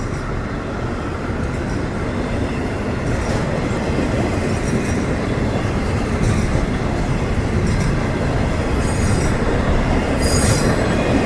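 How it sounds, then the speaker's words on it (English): A short northbound train rolls steadily past on the rails, a continuous rumbling clatter with faint wheel squeals rising now and then. "It's a short train for the holiday"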